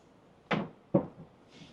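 A storage compartment that normally holds a drawer, now housing large batteries, is pulled open with two quick wooden clunks about half a second apart, close and fairly soft.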